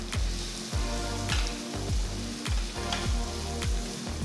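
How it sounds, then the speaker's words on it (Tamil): Steady sizzling of onions and green chilies frying in a pan, with a rhythmic scraping stir repeating about every half second. "வெங்காயம் நல்லா வதங்கிட்டு இருக்கு"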